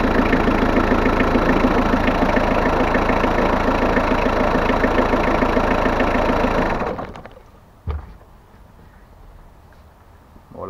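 A car engine idles loudly and steadily during an alternator test with a multimeter, a close even rumble that stops around seven seconds, leaving quiet with a single knock afterward.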